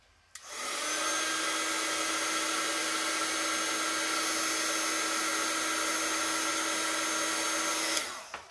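A heat tool blows steadily for about eight seconds while warming a luggage label, a constant close whooshing hiss that starts and cuts off abruptly, with no talking.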